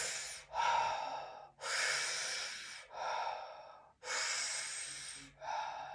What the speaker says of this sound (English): So I'll kind of sit back, stick out the belly a little bit, and 3 mouth breaths.